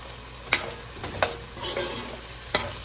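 Onions frying with okra in a pan for a bhindi dish, stirred with a utensil; steady close sizzle under four sharp scraping stirs, no talk.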